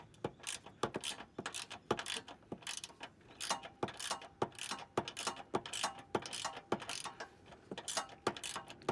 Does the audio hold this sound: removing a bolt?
yes